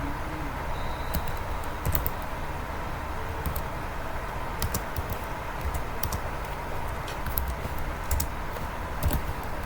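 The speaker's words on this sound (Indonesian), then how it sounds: "ketikkan" Fingers typing on a computer keyboard while writing a small Python compiler program, with irregular bursts of light key clicks over a constant background hum.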